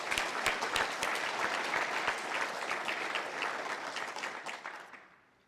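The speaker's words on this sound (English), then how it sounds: "Let's give them a round of applause." Applause from the crowd at a welcome home ceremony for the 191st Military Police soldiers, a fairly distant, even patter of many hands that fades out at the end.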